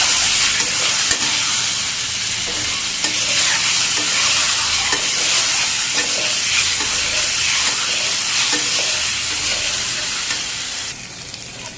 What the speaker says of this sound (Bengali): ডিমগুলো আমার লাল লাল করে ভাজা হয়ে গেছে